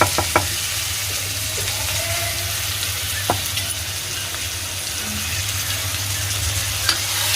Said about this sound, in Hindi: प्याज मेरी भुन रही है, इसी में डाल दूंगी मैं ये अदरक लहसुन का पेस्ट।